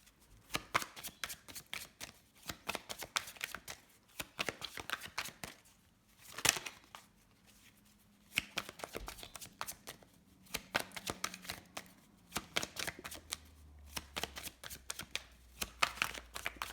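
Tarot cards are shuffled by hand in repeated crisp riffling bursts with short pauses between, close and fairly quiet, with no talking over them.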